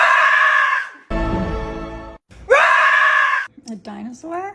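Voices imitate a dinosaur roar in several loud, close bursts: screechy shrieks, a rough throaty growl, and a falling wavering call, separated by brief pauses.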